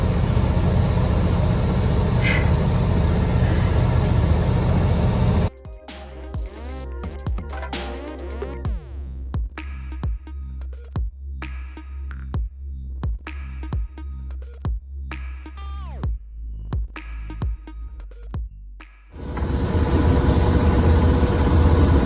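A small engine drives a water pump with a steady, moderately loud pulsing drone throughout; a voice speaks over it partway through.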